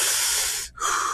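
Sharp hissing intake of air sucked in through clenched teeth with parted lips, a breathing technique used to hold back vomiting; a loud close hiss, a brief pause near the end, then a second shorter hiss.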